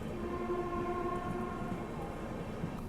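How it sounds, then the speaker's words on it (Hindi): Passenger train on the Patna Express route near Kanpur, heard from aboard as a steady rumble of wheels and carriage noise with a faint tonal hum, continuous and fairly loud. "हमारी ट्रेन जो है वो अब निकल चुकी है"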